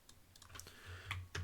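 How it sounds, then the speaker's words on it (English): Typing a Neofetch command on a computer keyboard in a Linux terminal: a quick, close run of light key clicks, irregular and quiet, with no speech. "type in Neofetch now"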